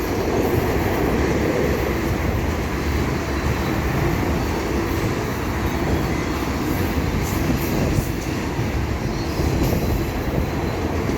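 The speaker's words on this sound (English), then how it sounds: "Now there's the end of that rock train over there." A long freight train hauling rock rumbles steadily past at a trackside spot near London, Ontario, a continuous close roar of wheels and cars with faint clicking and squeals, no voices.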